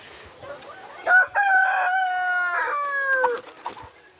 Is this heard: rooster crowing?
yes